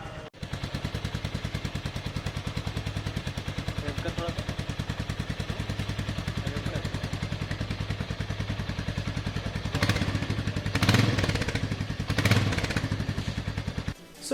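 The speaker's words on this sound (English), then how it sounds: "So now it's time to hear the exhaust note of this bike." A Royal Enfield Meteor 350 motorcycle starts and settles into a steady, thumping single-cylinder idle. The exhaust pulses evenly and close by, with brief clattery bursts near the end.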